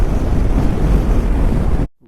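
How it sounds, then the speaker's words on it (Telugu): Heavy wind rushes loudly past a motorcycle on the Diskit to Pangong road in Ladakh, a steady close roar that stops suddenly just before the end. "చాలా విండ్ ఉంది"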